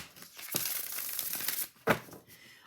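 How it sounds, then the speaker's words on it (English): Crystal Keys tarot card deck being shuffled by hand, two quick crisp riffles of card stock, close and fairly quiet, with a short pause between them. "give it its first little shuffle"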